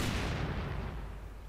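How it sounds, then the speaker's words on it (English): A mortar fires in Company of Heroes 2, a single booming launch with a long rumbling decay that fades over a second and a half, loud and alone. "Mortar firing away"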